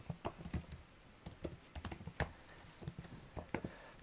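Soft, close typing on a computer keyboard, with uneven bursts of key taps over about four seconds and no voice over them.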